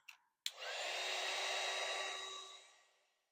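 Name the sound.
heat tool blasting watercolor paint to dry it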